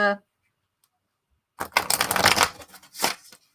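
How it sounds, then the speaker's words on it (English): After a brief pause, a deck of cards is riffled in a quick rattling burst, followed by a shorter second flutter. "Give this a shuffle"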